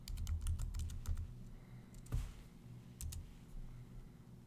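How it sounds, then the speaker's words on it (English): Fingers type a username and password on a computer keyboard, giving quick bursts of close, crisp key clicks with short pauses between them and no talking. "you want to type in your username, you want to type in your password"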